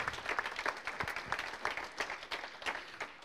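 Audience applause for students after a hackathon at a regional digital strategy event, a fairly quiet, steady patter of clapping from a modest crowd lasting a few seconds.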